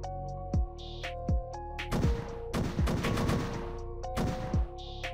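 Rapid bursts of gunfire in the video game AssaultCube, a series of sharp close shots with a dense flurry in the middle, spaced irregularly over a low steady game hum.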